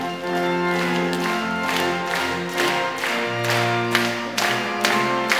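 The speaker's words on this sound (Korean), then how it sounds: "우리 박수하면서 힘차게 찬양하겠습니다" A church congregation at a Korean prayer meeting claps in steady rhythm while singing a praise hymn. The regular claps ring out over loud, sustained music and voices.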